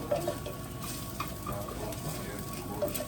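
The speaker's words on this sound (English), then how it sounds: "we're gonna stir this up a little bit" A spoon stirs onions frying in a little oil in a drying pan, making a continuous soft sizzle with scraping, faint clinks of utensil against pot, moderately close and unbroken by talk.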